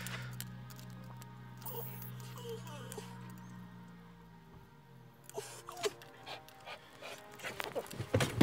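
A pet dog pants softly indoors, with rhythmic breathy puffs over a steady low electrical hum; clicks and handling noises grow louder toward the end.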